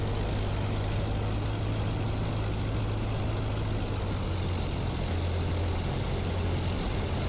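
Pfalz D.IIIa biplane engine in a flight simulator, throttling up to taxi: a steady low droning rumble with a constant hum, held near and even throughout with no voices.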